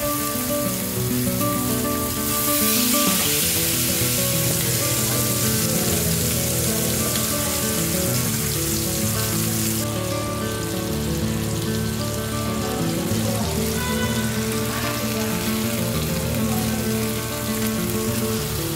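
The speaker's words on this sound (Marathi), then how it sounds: "तेल पॅनमध्ये पूर्ण तापून द्या, नंतर त्यामध्ये पापलेट घाला" Stuffed pomfret fries in a pan of fully heated oil, giving a loud, continuous crackling sizzle that swells partway through, with no voices.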